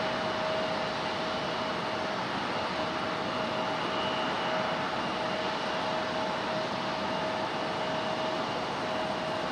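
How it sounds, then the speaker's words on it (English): A Delta Connection airliner touches down at Raleigh-Durham airport in stormy weather, its engine roar a steady, loud broadband rush with a faint whine, continuous throughout without any talk. "got one from Delta Connection touching down"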